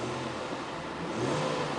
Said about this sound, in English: I'm going to rev it, so keep an eye on the left hand dial